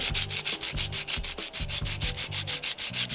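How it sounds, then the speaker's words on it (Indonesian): Wood sandpaper rubbed on a guitar part in steady, rhythmic back-and-forth strokes, close and fairly loud, with no voices. "Kalau belakang ini kayu nih teman-teman, amplas kayu itu lebih awet"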